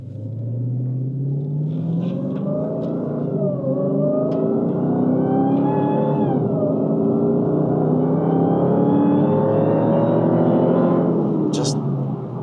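A 2021 Dodge Charger SRT Hellcat Wide Body accelerates hard from inside, its engine note climbing through gears in rising sweeps with a shift near the middle, loud and continuous to a sharp peak at the end.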